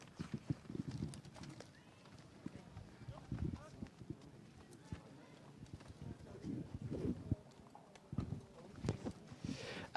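Racehorses at the Derby de l'Ouest walk on a hard surface, hooves clip-clopping in an irregular steady rhythm at close range, with someone talking over them throughout.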